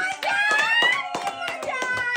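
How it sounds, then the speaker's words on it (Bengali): Hands clap loudly in a quick, steady run of sharp claps during a family paper box challenge game at home, with children's voices talking and calling out over them. "জোরে হাততালি"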